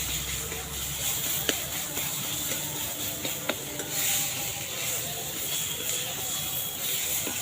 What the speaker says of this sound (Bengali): এটাকে তেলের সঙ্গে ভাজবো